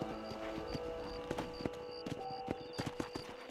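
Horse hooves clip-clopping in Red Dead Redemption, an irregular walking rhythm of soft knocks over a quiet steady musical drone, fairly faint and without talk.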